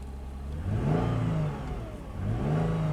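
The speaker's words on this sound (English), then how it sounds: "Rev it up a little bit." A Lexus GS300 V6 engine revving up twice from idle, each rise swelling and then easing back down, loud and close with no talk over it.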